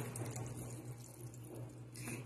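Water running from a kitchen tap while cooking, a steady soft splashing stream with a low hum underneath, fairly quiet and continuous, no talk.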